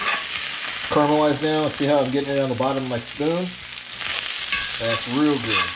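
Corn for maque choux fries and caramelizes in a pan, a steady sizzle under a spoon scraping and stirring across the bottom, with a person talking clearly over it throughout.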